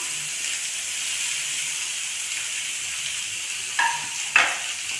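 A big chopped onion goes into hot ghee with cumin, giving a steady soft sizzle and hiss, then two short sharp bursts of crackling as it hits the pan, with no talking.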